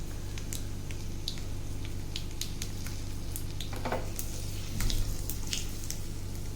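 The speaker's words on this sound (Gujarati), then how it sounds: "આ વઘારને આપણે દાળમાં રેડી દઈશું." Hot Gujarati tempering of mustard seeds, asafoetida and red chili is poured into dal, giving a crackling sizzle and bubbly squish with scattered pops, swelling briefly near the end.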